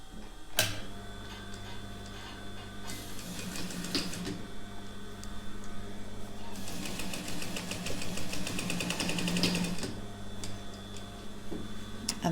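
A domestic sewing machine stitches satin, a soft, steady mechanical whir with rapid ticking that stops and starts in two longer runs. It is faint and close, with no one talking.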